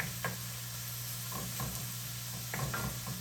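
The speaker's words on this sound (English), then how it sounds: "Just stir it around." Onions being stirred in a pot while a chuck roast cooks, with soft scraping strokes at irregular intervals over a steady low sizzle, close and moderately quiet.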